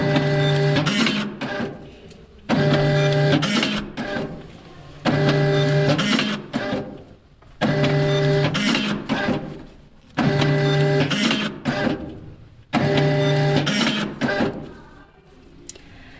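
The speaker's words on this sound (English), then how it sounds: "The next, we will try to print 7 pages" A Gprinter GP-1624TC thermal transfer label printer runs off washing labels with its auto cutter, loud close bursts of mechanical whirring and clicking repeating in a steady cycle of six print-and-cut runs separated by short pauses.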